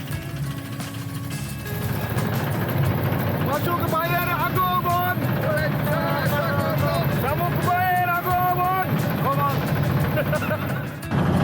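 A river boat ride toward the Mirzapur Bhawal boat ghat, with a steady droning engine rumble running throughout while people talk over it nearby.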